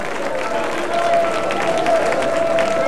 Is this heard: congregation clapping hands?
yes